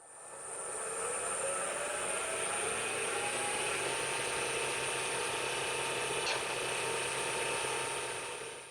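A wood lathe spinning a gavel-head blank held in a chuck at about 2000 RPM, giving a steady mechanical whine with a faint ticking texture, fairly quiet and continuous throughout.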